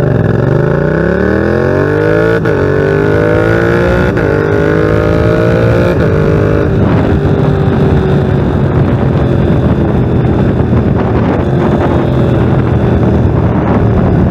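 A motorcycle engine revs hard on a launch-control start and rises in pitch through several quick gear shifts, then settles into a loud, steady roar with wind noise.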